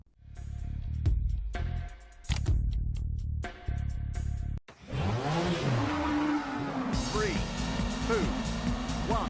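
A rally car engine in the PS1 racing game V-Rally 2, snarling and shifting pitch with sharp tire-squeal sweeps. It comes in abruptly after another sound and stays loud and continuous.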